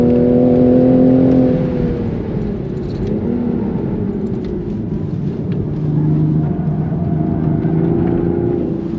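Onboard sound of a 2023 Toyota GR Supra with manual transmission on a race track: a loud, steady engine drone that eases off then builds again with rising pitch, heard from inside the car without talk.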